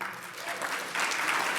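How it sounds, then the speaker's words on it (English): Audience applause in a hall at a recognition event, a dense wash of hand claps lasting under two seconds and swelling louder partway through, with no voices over it. "Always deserving of applause."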